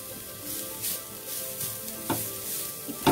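Grated carrots frying in ghee while being stirred, a steady close sizzle broken by several scraping strokes of the spoon against the pan.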